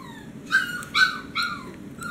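A dog barks several times nearby, a short run of high, yelping barks with a faint whimpery edge, heard alone over a low background hum indoors.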